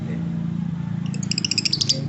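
A pet parrot, a young bird from the province, lets out a run of bright, rapid squawks and chirps in the second half, fairly close over a low steady hum.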